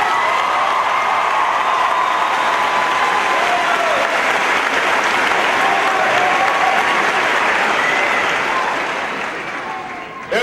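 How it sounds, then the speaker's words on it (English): Sustained applause from a large audience fills a high school graduation ceremony hall, steady and dense for about ten seconds before fading near the end. "You deserve a round of applause as well."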